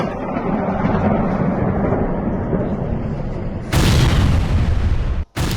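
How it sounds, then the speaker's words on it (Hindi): Explosions from Russian strikes on Donetsk: a continuous, heavy rumbling roar that suddenly surges into a louder, harsher blast near the end, then briefly cuts out before resuming. "डोनेस्क पर विनाशक प्रहार, एक के बाद एक जोरदार धमाके।"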